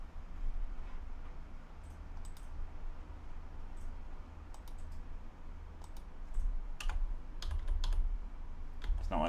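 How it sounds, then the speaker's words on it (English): Computer keyboard keys tapped in irregular bursts of sharp clicks during a game session, close and fairly quiet, over a steady low hum with no talk. "If it'll let me type it."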